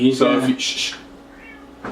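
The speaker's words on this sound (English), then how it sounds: "So my cat's in heat right now." A female cat in heat yowls loudly in drawn-out, plaintive meows, two or three close cries in quick succession, with people talking briefly and a shushing sound.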